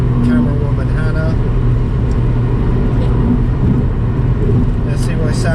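A Honda Civic EP3 engine fitted with an ITG Maxogen induction kit runs in a steady, loud low rumble and whir throughout, close to the car's interior with no gaps.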